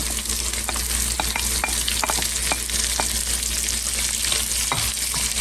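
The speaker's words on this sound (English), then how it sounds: "The bacon is starting to render out its fat, so I'm going to add the onion." Onion frying in rendered bacon fat, a steady close sizzle with irregular spatters and crackles under a constant low hum, no voices present.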